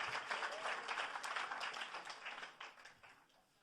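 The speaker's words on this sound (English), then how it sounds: "So they deserve a huge round of applause for doing this." A crowd applauding, a dense wash of clapping that holds steady for a few seconds and then gradually thins out. It sounds somewhat distant and soft.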